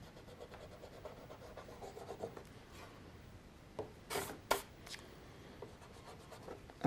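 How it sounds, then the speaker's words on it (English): A soft pencil eraser rubs across drawing paper to clean smudged graphite from the background, a quiet, close scratchy rasp with a few sharper strokes near the end. "erase all the bits that you smudged, just to clean the background"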